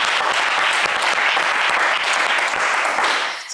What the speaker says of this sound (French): Allez, des applaudissements pour Marie.